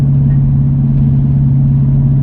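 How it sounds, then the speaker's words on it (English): A car engine in a manual-transmission car during a downshift to third, heard from inside as a loud, steady low drone with no voices. "So clutch in, third, rev, clutch out."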